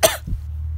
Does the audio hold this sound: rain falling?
no